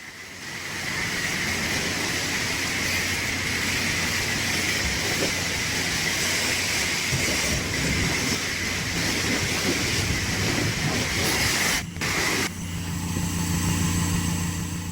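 A high-pressure water stream rinses a ceramic coated car in a wash bay, a loud continuous hiss and spray that cuts off briefly near the end before resuming.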